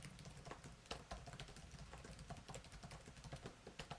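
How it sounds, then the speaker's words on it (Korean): Soft, rapid clicking of the keys on an MSI Summit E16 Flip Evo laptop, a steady patter of quiet keystrokes with no voices, fairly faint and close. "타건 소리가 크지 않아서 좋았습니다"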